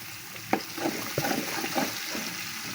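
Ginger garlic paste and green chili paste sizzle steadily in a pan, with a few sharp stirring scrapes popping above a soft, continuous frying hiss.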